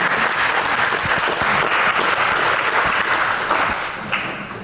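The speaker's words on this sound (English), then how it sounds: "I'll give them a round of applause." A standing audience at a STEM challenge awards ceremony gives a sustained round of applause, dense and steady before tapering off near the end, with no talk over it.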